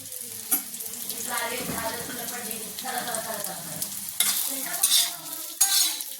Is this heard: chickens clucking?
no